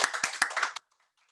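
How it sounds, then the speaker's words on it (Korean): A short burst of several people clapping together at an awards ceremony, a few sharp rhythmic claps lasting under a second before cutting off to silence. "자, 다 같이 박수 보내볼까요?"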